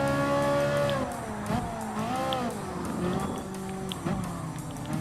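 A Ferrari 458 Italia Gr.4 race car in Gran Turismo Sport revs hard, its engine pitch climbing and dropping through gear changes, with a brief squeal of tires. The sound is loud and continuous.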